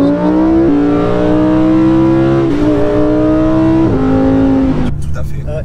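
A McLaren 570S supercar accelerates hard with a loud, continuous engine roar that climbs in pitch, drops briefly at several gear changes, then climbs again before easing off near the end.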